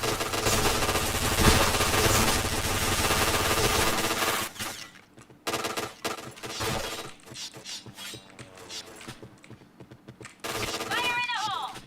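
Loud bursts of automatic gunfire in a video game, with dense rattling volleys that stop and start, shattering effects, and chatter from the players over the top.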